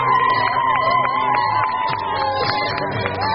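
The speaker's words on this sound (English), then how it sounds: "Let's have another round of applause for the Gangsters." Crowd at a team introduction cheering, whooping and shouting loudly and continuously, with children's voices mixed in and no distinct clapping rhythm.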